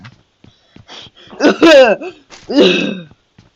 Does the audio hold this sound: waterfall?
no